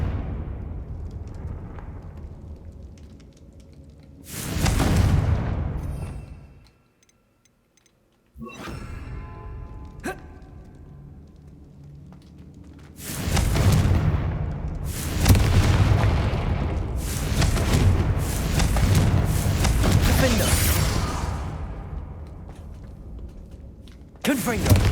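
Confringo explosion spells blast in a video game, several deep booming bursts landing one after another, with a voice talking between them.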